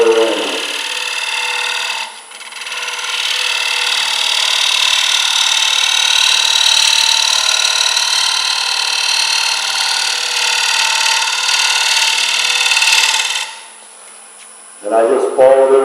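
A hand scraper drawn steadily along the curved edge of a wooden workpiece, a long continuous rasping scrape of about eleven seconds, close and loud, then a pause and a brief fresh stroke.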